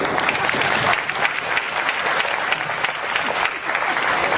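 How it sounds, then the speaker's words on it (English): A conference audience gives the translators a loud, sustained round of applause, a thick continuous wash of clapping with no pauses. "Give them a round of applause, by the way."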